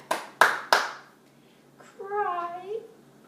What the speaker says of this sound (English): Clap, clap.